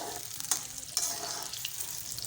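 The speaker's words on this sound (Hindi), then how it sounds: "प्याज को अच्छी तरह से ब्राउन कर लेंगे," Onions browning in oil in a pan for a fish curry, giving a steady loud sizzle with a couple of sharper pops or stirring scrapes, close up and with no talking.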